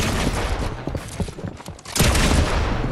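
Gunfire in a Fortnite box fight, a burst of close, loud shots with a second heavy volley near the end, layered over busy game sounds.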